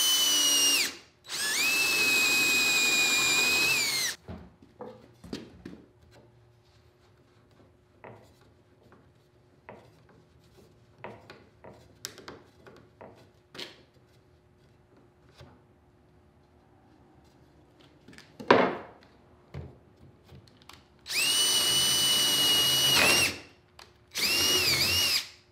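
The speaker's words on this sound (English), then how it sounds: "So get your 3/4 spade bit or Forstner bit, and we're just going to go to town here." A power drill bores into wood for a round coffee table, using a 3/4-inch spade or Forstner bit. Two loud sustained bursts of drilling at the start and two at the end, with quiet scraping and knocking between them.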